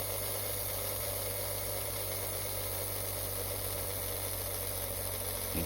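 A Bulldog HO slot car motor being run in at low voltage makes a faint, steady electric hum and whine that stays constant for several seconds without any speech.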